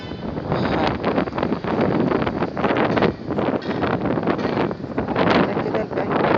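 Wind in Alexandria, Egypt buffets the microphone in a loud, continuous roar with gusty surges throughout.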